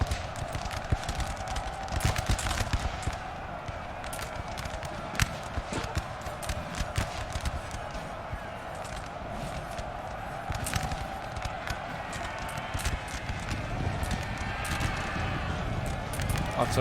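Cavalry horses gallop through a village in a Napoleon Total War battle, a continuous rumble of hooves with scattered sharp cracks of musket fire over dense battle noise, while someone talks over it.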